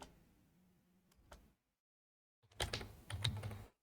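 Keys clatter on a computer keyboard as a query is typed, one short run of taps, then silence, then a denser, louder burst of close keystrokes.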